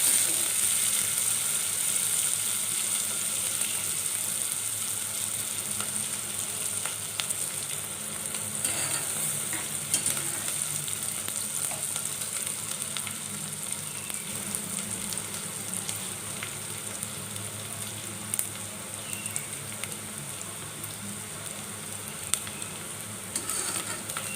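Green chillies sizzle and fry steadily in a pan for a desi kali tori dish, a continuous close hiss broken by occasional scraping clicks of stirring, with no talking.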